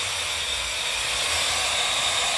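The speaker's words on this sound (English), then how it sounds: "Fill the shop with steam." Steam hisses from a large steam engine boiler with copper tubes, a steady, close, broadband rush that holds and grows a little louder over a faint low rumble, with no voices.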